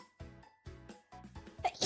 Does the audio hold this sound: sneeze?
yes